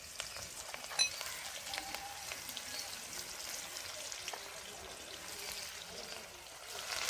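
Onion slices go into hot oil in a home kitchen for a Bengali fish curry, making a steady, fairly quiet broadband sizzle and crackle that holds at an even level throughout with no voices.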